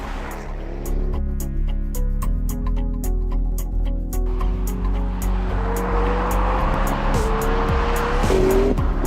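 A McLaren 12C sports car engine revs steadily and climbs through gears, with tires squealing near the end, loud and continuous without any talking.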